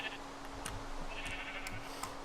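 Sheep in the Minecraft modpack Agrarian Skies 2 give a few faint, brief bleats over a steady low game hum, with no talk.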